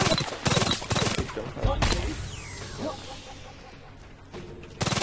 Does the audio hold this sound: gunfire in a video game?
yes